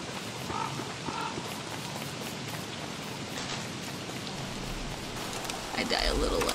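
Steady rain falling in the Don't Starve video game, a continuous broadband hiss with a faint talking voice underneath and a brief louder stretch near the end.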